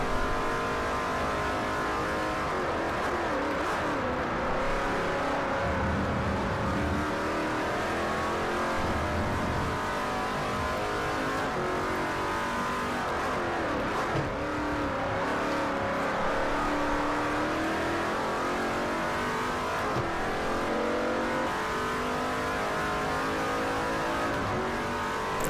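Racing car engines from Forza Motorsport 4, including a Ferrari, drone and rev continuously through a race, a dense layered engine roar with shifting pitch and no speech over it.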